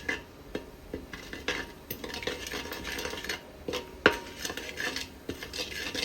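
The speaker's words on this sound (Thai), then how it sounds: "เดี๋ยวเราจะใส่น้ำน้ำมันพืชเพื่อผัดน้ำพริกจ้ะ" Stir-frying chili paste in vegetable oil over low heat for a Thai curry: repeated scraping and clinking of a utensil against the pot over a faint sizzle, close and fairly quiet, with no one speaking.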